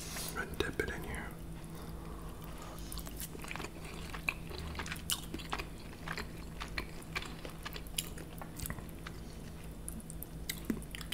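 Close, wet chewing and biting of food dipped in hot chili sauce at a kebab shop meal of falafel, lamb wraps and doner fries, with steady crunchy and squelchy mouth sounds and a low background hum.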